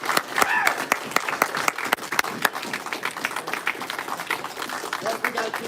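Audience clapping at a Brazilian jiu-jitsu promotion ceremony in Madison, Alabama: a crowd's dense, continuous applause with scattered sharper individual claps, while someone talks faintly underneath.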